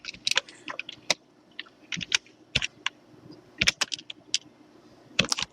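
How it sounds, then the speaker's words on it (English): Bursts of typing on a computer keyboard, entering a server name while setting up a Minecraft server, come in short irregular clusters of close, crisp key clicks separated by brief pauses. "Just type in bucket, if I can spell bucket."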